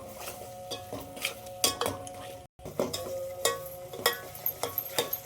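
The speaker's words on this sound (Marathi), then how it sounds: "तर आता ह्याला छान तेल सुटेपर्यंत परतून घ्यायचं." Spice masala is sautéed in oil in a pan over a low flame. A spoon stirs and scrapes with irregular clinks against the metal over a faint, steady sizzle, and there is one brief gap of silence.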